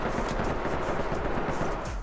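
Sustained, dense automatic gunfire rattles without pause during a firefight in the SWAT tactical shooter game Ready Or Not. No talk is heard over it.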